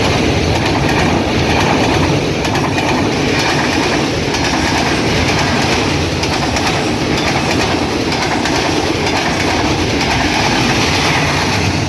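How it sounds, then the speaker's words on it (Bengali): 806 Down Silahati Express hauled by a class 6400 locomotive on the Silahati to Dhaka route, rushing past close by with steady loud rumbling and clattering wheels throughout, no voices. "সিলাহাটি থেকে ছেড়ে আসা ঢাকাগামী 806 ডাউন সিলাহাটি এক্সপ্রেস প্রবেশ করছে"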